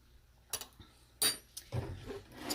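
A spoon stirs chunky keto chili soup in a pot, giving a few separate metallic clinks and scrapes against the pot, sparse and fairly quiet, with no talking.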